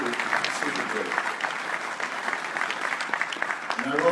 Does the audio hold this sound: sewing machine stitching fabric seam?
no